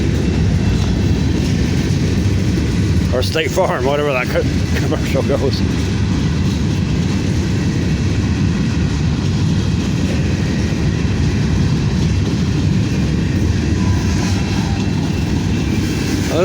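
A long freight train led by three locomotives rumbles past steadily and loud at close range, with a continuous roar of rolling cars; someone talks over it partway through.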